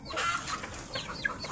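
Young chicks in a backyard free-range pen peep and cluck softly at close range in a brief burst of overlapping calls, with no talking over them.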